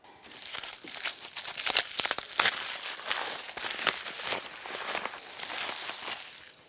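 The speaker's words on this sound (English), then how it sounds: "remove all the bubble wrap, cut all the zip ties" Plastic bubble wrap and packaging crinkling and rustling as it is pulled off an electric bike frame, with occasional snips from cutting zip ties; busy, close handling noise with no talk.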